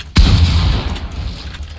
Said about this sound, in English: I don't see the point in shooting above me like this with a shotgun, but we'll do it anyway.